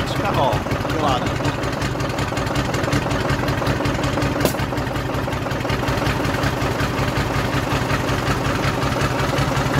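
A Renault 145.14TX tractor engine idles with a continuous, even, low rumbling drone and a fine rapid pulsing, close and loud, while someone briefly speaks over it.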